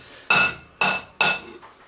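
A hammer strikes a rivet on beginner blacksmith tongs, giving three sharp metallic blows with a ringing tone, each fading quickly, close and loud.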